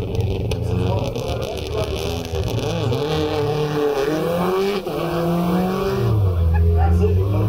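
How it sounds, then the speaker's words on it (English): A genuine Subaru Impreza World Rally Championship car, raced by the Polish team, climbing the hill at a hill climb event, its engine roaring loud and sustained with shifting pitch, under an announcer's voice. "a genuine Subaru Impreza from the World Rally Championship raced by the Polish team"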